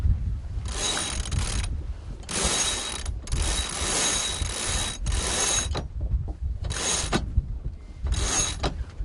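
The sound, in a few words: sailboat winch ratcheting as line is handled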